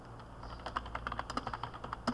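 Quiet, quick clicking of keys typed on a computer keyboard during an online statistics lesson, an irregular patter of soft taps with no talking.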